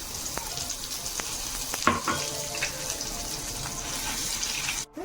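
Mustard seeds, cumin, curry leaves and dried red chilies fry in hot oil with a little ginger-garlic paste, giving a constant close sizzle with a few sharp crackles and pops, then a brief cut near the end.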